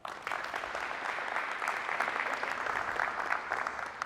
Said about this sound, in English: Can we please give them a clap?